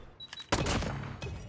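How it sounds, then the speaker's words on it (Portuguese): Rapid revolver shots from Call of Duty Mobile, a brief burst of sharp cracks, one soft pop followed by a loud shot and another close behind, heard alone. "Olha ele dando tiro na sequência."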